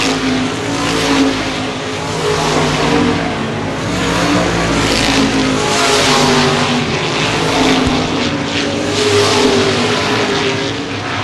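Modified race cars run a qualifying race at Baer Field Speedway during the Gold Cup 50. A pack of engines roars together in a steady, loud wash with no break across the whole stretch.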